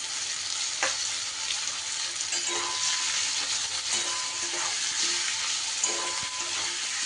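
Chopped onions go into hot oil over a ground spice mix for a paratha stuffing, giving a steady broadband sizzle with a few soft scrape and stir clicks throughout, close and alone without any voices.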